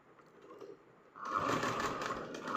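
A sewing machine stitching thread piping onto a blouse starts up after about a second of quiet, then runs in a steady, fairly close whirring hum until the end, with no talking.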